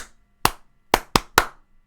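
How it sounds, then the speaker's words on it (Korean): A concert crowd at a show claps one sharp clap, pauses, then lands a quick run of three, a crisp rhythmic cue with silence between beats. "요것은 여러분 집중의 박수입니다."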